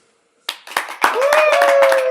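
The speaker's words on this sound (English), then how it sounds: "Round of applause for Elizabeth, please." Studio audience clapping for a guest arriving on a talk-show set, starting abruptly after a short silence and swelling into steady applause at close range, with voices and a sustained tone mixed in.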